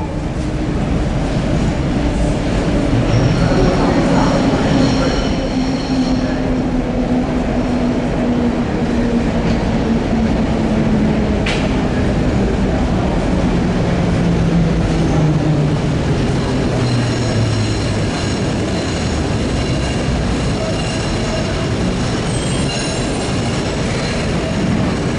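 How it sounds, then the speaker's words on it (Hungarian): A Budapest HÉV suburban train rolls slowly past at close range during flood preparations, a continuous heavy rumble with a long descending wheel squeal and faint clicking rail noise, no voices. "Ma még lejön a hév."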